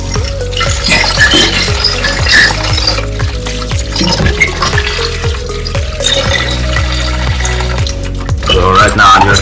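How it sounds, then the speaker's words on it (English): Raw chicken pieces being washed with distilled white vinegar and water for a curry, loud close splashing and sloshing in a bowl or sink with clattering handling throughout, partly masked by background music. "I'm gonna wash it up with some vinegar."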